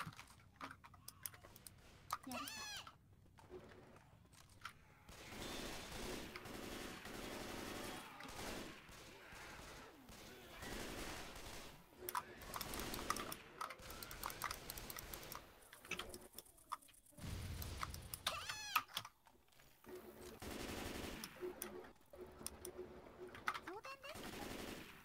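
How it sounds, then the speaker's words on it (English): Video game gunfire in Left 4 Dead 2 rattles on and off for about 25 seconds, with rapid bursts and single shots in dense clusters, loud and close, broken by brief quiet gaps. "I just see you shooting out the window."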